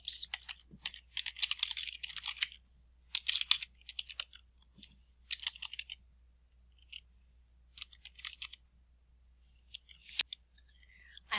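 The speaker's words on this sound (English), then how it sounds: "So you'll type in your last name," Someone types on a computer keyboard in short bursts of crisp, close key clicks separated by pauses, ending with one sharper click in a quiet room.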